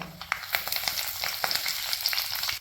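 Mustard seeds, fenugreek, dried red chilies and curry leaves crackle and sizzle in hot oil for a tender jackfruit pickle, a loud continuous frying hiss dotted with small pops and spits.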